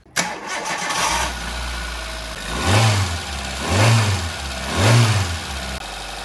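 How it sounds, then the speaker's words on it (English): A Hyundai Getz engine cranks after a timing belt change, with a steady whir for a few seconds, surging rhythmically three times as the starter turns over, close and loud. "What we're now going to do is start the car and hopefully she runs fine."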